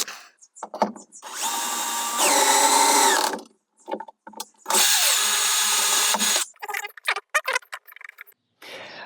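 A power driver screws the Flexhalter base of a bed-lift kit into press nuts in the roof of a Fiat Ducato L3H3 van, with two long close whirring bursts between shorter blips and clicks.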